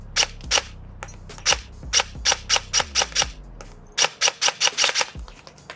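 A G&G Type 64 airsoft rifle firing in quick bursts, around twenty sharp, close snapping shots grouped in clusters of two and three with brief pauses between, no voices.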